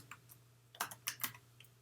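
Fingers type on a Bluetooth computer keyboard in a few quick, close key clicks over a low steady hum, with no voices.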